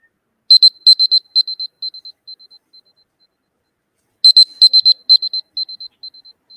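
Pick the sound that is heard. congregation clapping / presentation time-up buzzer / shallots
presentation time-up buzzer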